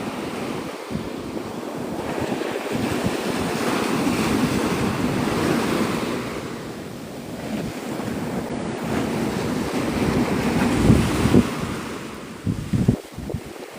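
Ocean surf washing onto Navarre Beach at sunrise, a steady broadband roar of breaking waves with wind buffeting the microphone, swelling and easing in gentle surges, plus a few close knocks near the end.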